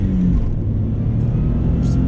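Subaru WRX wagon, a 1994 JDM car with the EJ20G engine, revving hard toward 6,000 RPM, a loud, dense close-up engine roar that stays sustained throughout.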